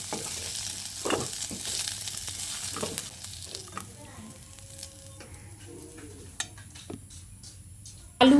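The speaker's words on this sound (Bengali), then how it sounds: "দেখুন বন্ধুরা, আলু ও কচু খুব ভালো করে ভেজে নিয়েছি।" Fried potato and gathi kochu chunks crackle softly in a pan of hot oil. A light spoon scrapes and stirs now and then, and a sharper clatter comes right at the end.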